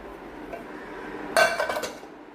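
A metal pan is picked up in a kitchen, giving one sharp clank followed by a few quick rattling clinks of metal, close and clear after a quiet lead-in.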